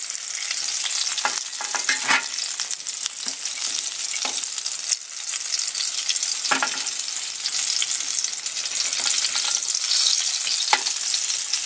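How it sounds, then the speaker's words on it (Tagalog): Lumpiang togue, bean sprout spring rolls, frying in oil over medium heat, giving a steady, loud, dense sizzle with occasional crackling bursts that holds throughout. "hanggang sa matapos natin lahat na prituhin itong ating mga lumpia"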